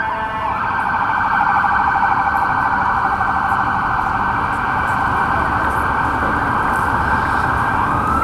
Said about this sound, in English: You can always trust a siren in New York. There's always going to be a siren.